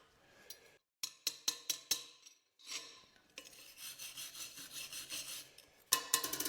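Wire chipping brush scrubbing slag off a fresh stick weld laid with 1/16-inch rods: a burst of quick, sharp strokes, then a longer stretch of steady, rasping scrubbing, close and fairly loud with no talking.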